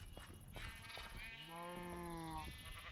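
A Minecraft sheep gives one clear, drawn-out bleat in the middle of the clip. Soft game sounds play in the background.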